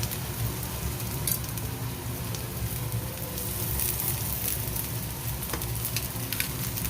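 Beans, cabbage and capsicum sizzling and frying in a pan, a steady, moderately loud crackle with occasional stirring scrapes and no voices.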